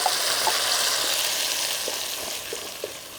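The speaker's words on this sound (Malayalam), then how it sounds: "ആ ഒരു കറിവേപ്പിലും പെരുംജീരകമൊക്കെ നന്നായിട്ട് പൊട്ടി മൂത്തൊക്കെ വന്ന്" Curry leaves and fennel seeds sizzle and crackle in hot oil in a pan, a close, continuous frying hiss with a few small pops and no talking.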